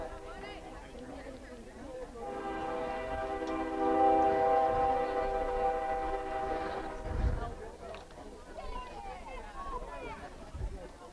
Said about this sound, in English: Second train of the ball game. Rolling through behind us.